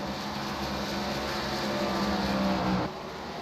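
Race car roaring past another car during a NASCAR race at Darlington, a loud sustained engine drone holding steady for nearly three seconds before dropping off abruptly.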